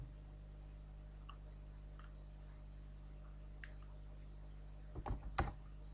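Faint, sparse keystrokes on a computer keyboard over a steady electrical hum, a few isolated taps early on and then a quick cluster of louder clicks near the end, with no talking.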